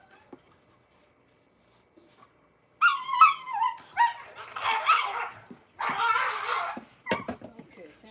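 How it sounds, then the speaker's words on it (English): Hound dogs bark, yip and squabble at an outdoor spot, several dogs giving bursts of barking and howling cries over about five seconds after a quiet start, moderately close. "Them old dogs been barking and fighting and hollering and screaming all day."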